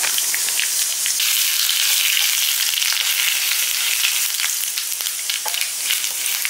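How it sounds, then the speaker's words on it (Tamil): Mustard seeds and urad dal sizzle and crackle in hot oil, a continuous bright hiss dotted with tiny pops, close up and with no voices. "இப்போ கடுகு உளுந்தம் பருப்பு போட்டுக்கலாம்."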